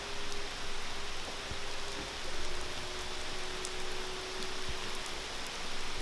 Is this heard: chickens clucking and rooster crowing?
no